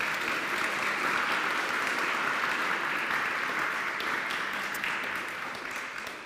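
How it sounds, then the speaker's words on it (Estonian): Dense, steady applause from a large audience at the Estonian Aviation Academy's 2021 graduation ceremony, continuous throughout and tapering slightly toward the end. "aga aplaus sellegi poolest"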